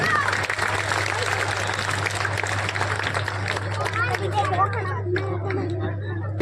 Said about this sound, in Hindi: एक बार देखिए, जोरदार ताली बजाइए।